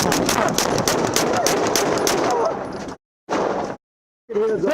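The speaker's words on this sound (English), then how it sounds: "Shots fired, shots fired, shots fired." Rapid, loud bursts of gunfire during a police officer-involved shooting captured on body cam, a dense volley of shots followed by short silent gaps and further bursts.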